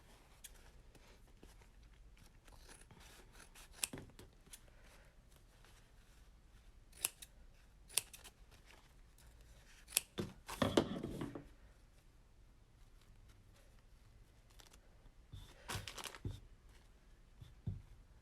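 Scissors cutting through a KN95 face mask, a handful of sharp snipping crunches scattered across a quiet room, with a louder cluster of rustling cuts midway and a few more near the end.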